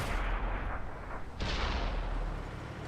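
Heavy tank cannon fire in World of Tanks Console from a T54E1 tank: a loud booming blast followed by a second sharp report about halfway through, with rumbling decay between them.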